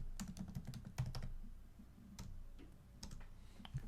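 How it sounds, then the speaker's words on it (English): Fingers type a short burst of text on a computer keyboard, quick irregular clicking keystrokes close and fairly quiet, with no talk. "Go ahead and type some text."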